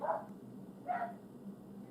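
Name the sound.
dogs barking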